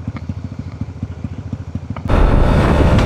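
A Yamaha T-Max motorcycle engine idles with a rhythmic, close-up thumping pulse, then a sudden loud surge of rushing noise takes over.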